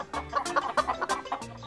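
Chickens clucking on a farm: a quick run of short, close, choppy clucks and squawks with an irregular rhythm, several birds overlapping, no talking.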